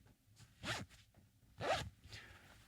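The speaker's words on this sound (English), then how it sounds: "here's the zipper on the back pocket." A long zipper on the back pocket of athletic sweatpants is pulled in two quick strokes, each a short, close rasp, with quiet pauses around them.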